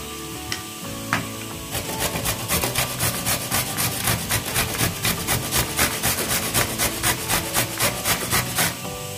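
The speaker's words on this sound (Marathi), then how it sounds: "आता आपण हा भोपळा किसून घेऊयात।" Peeled pumpkin is rubbed against a grater in close, rhythmic rasping strokes that start after a brief quieter moment and continue steadily without talk.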